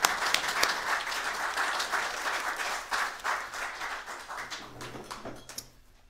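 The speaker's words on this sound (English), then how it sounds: "let's welcome him with a warm round of applause" Audience applause welcoming a speaker at an evening talk on trout fishing and river restoration, a steady round of many hands clapping that gradually fades to quiet at the end.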